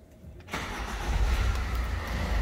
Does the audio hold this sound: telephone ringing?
no